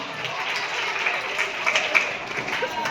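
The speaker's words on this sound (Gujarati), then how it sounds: "બાબુલાલને આપણે તાળીઓથી વધાવી લઈશું." An audience at a gathering applauds to welcome Babulal, a moderate, steady patter of many hands clapping that rises slightly toward the end, with no talk over it.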